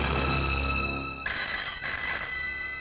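An old-style telephone bell rings loudly and continuously, with a brief break and restart partway through.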